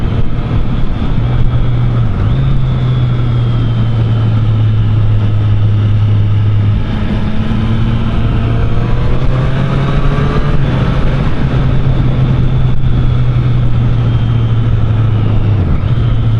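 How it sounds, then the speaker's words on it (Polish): A Honda CB1000R motorcycle engine drones steadily throughout, its pitch rising and falling slightly as it rides, with constant wind and road noise. "taka nagrywka po prostu motocykla CB1000R w akcji z dobrym kierowcą"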